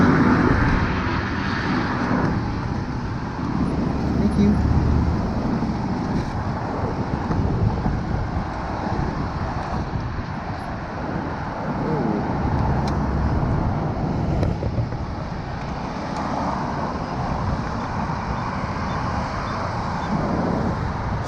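Steady road traffic along Highway 24 in the Colorado mountains toward Cripple Creek, a continuous broadband rumble of passing vehicles with wind buffeting the microphone, loud and unbroken throughout with no talk.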